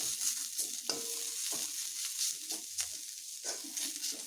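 Pointed gourd peels frying at medium heat, a soft steady sizzle with intermittent spatula stirring and light scraping, fairly quiet and close.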